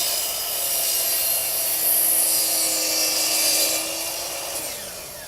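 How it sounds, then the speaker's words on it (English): Double bevel sliding compound miter saw making one smooth cut through a held-down workpiece: a steady high whine with a rasping bite that rises, holds, then tapers as the blade finishes. "I draw the saw all the way out, pull the trigger, one smooth cut."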